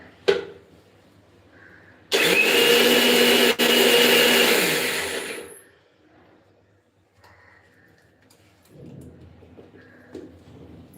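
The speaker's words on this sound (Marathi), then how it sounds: "त्याच्यामध्ये आणखीन थोडंसं पाणी घालून मी वाटून घेणार आहे जेणेकरून आपल्याला मऊ पेस्ट पाहिजे" A kitchen mixer grinder whirs loudly for about three and a half seconds while grinding soaked chickpea dal with added water into a smooth paste for besan. It starts abruptly and winds down, and a brief clatter sounds before and after.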